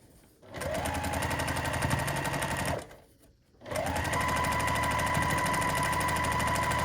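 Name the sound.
sewing machine stitching pocket onto zipper pouch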